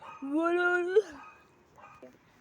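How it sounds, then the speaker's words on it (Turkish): A dog gives a drawn-out whining yelp, then a short softer yip follows after a pause, fairly close. "Köpecik de burada."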